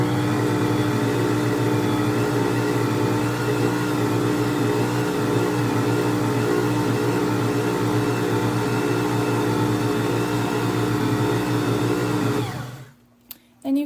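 An electric stand mixer kneads whole wheat bread dough made with freshly ground flour, giving a loud, steady motor hum and whir that runs unbroken for about twelve seconds, then cuts off, leaving near silence with a couple of small knocks.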